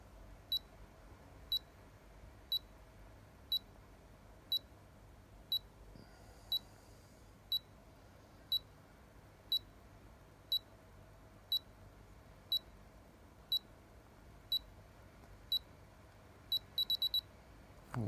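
Short electronic beeps repeat steadily about once a second, with a quick cluster of beeps at the end, over a quiet background hum.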